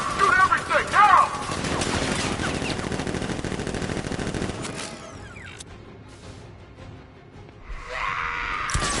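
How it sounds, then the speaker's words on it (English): Guards firing automatic weapons in Batman: Arkham Knight: dense, sustained rattling bursts with mechanical clatter that thin out midway, then a brief metallic flare near the end, with talk mixed in. "Guard! Open fire! Shoot everything!"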